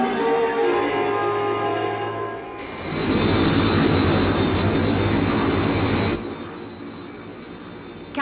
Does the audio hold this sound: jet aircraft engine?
yes